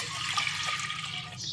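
Dal being washed in water for drumstick-leaf pappu, with steady running and splashing water close by, like a tap filling a vessel, with no talk.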